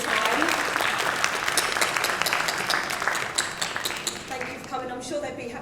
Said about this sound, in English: give our panellists who've been fantastic a big round of applause